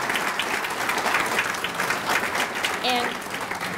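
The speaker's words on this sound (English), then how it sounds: "Can we give them a round of applause?" An audience at a Cuyahoga County Tapestry annual meeting gives a steady round of applause for nominated families, a dense, even wash of clapping throughout, with a brief tonal squeak partway through.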